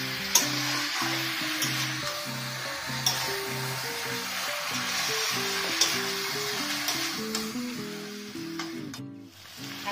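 Chicken and potatoes fry with ginger, garlic and green chilli for a dhaba-style Odia chicken recipe, a steady bright sizzle with occasional spoon clinks while a melodic tune plays underneath.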